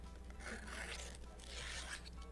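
Scratchy rasping of a pin scoring the edges of sticky embroidery stabilizer, two close, quiet scraping strokes over a steady low hum, with no talking.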